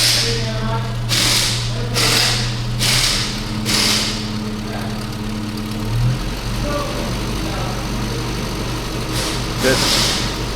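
A 998cc Mini engine idles steadily and then revs in short, repeated blips during carburettor tuning, the pitch rising and falling close by while someone talks over it.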